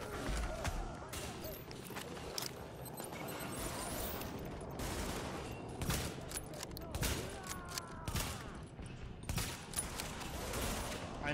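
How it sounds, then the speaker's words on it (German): Gunfire in Tom Clancy's The Division rattles on without a break as a dense run of sharp shots from several weapons. People talk over it throughout. "Ich schieße auf die."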